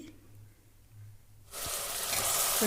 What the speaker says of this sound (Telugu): ఇప్పుడు అల్లం వెల్లుల్లి పేస్ట్ ఒక స్పూన్ వేసుకుంటాం ఇది కానీ బాగా ఫ్రై చేసుకోవాలి